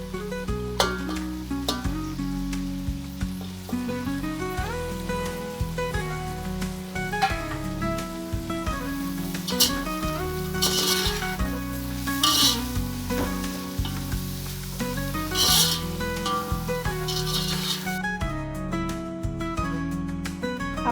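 Carrots and capsicum sizzle steadily in a pan as they are stir-fried for chicken noodles, with occasional stirring. Background music plays throughout.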